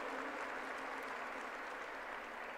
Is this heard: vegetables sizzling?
no